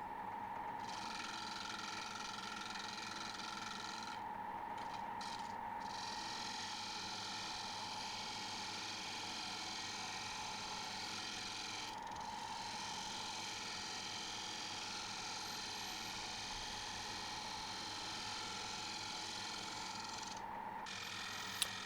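A wood lathe spins a composite oak bowl blank with a steady, faint mechanical hum and whir that continues unchanged, broken only by a few brief dips.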